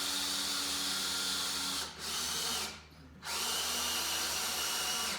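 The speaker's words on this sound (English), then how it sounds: "It's like the fan is getting weaker and weaker from years of use." An aging sleep clinic breathing machine with an overworked, weakening fan hums steadily at close range, its motor drone cutting out briefly near the middle before resuming just as strong.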